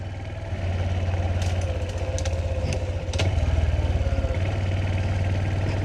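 Honda Super Cub motorcycle engine running steadily on a green lane, a close, continuous low puttering hum with a brief rise in revs midway and faint clatter over it.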